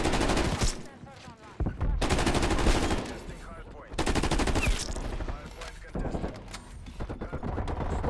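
Bursts of GRAV rifle fire in a multiplayer shooter's Domination mode, arriving in several sustained volleys separated by short gaps, with gameplay effects and faint speech underneath.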